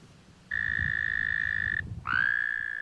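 Two long, steady high-pitched trills from American toads calling in breeding season, the first holding about a second and a half, the second starting right after a brief pause, over low background noise.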